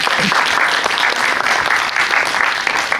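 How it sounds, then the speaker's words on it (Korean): Steady, dense applause from an audience at a Korean film premiere talk event, continuous clapping at close range filling the whole stretch with no voices standing out. "박수 치고 끝낼게요."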